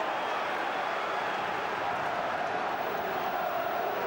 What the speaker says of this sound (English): the crowd give their vocal support despite the loss of an early goal here